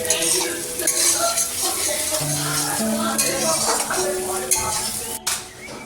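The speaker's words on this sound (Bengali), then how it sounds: "পেঁয়াজটা পুরো ভাজতে হবে।" Onions stirring and frying in a pan, a steady close sizzle with scraping and clinking of a spoon against the pan throughout, no talk.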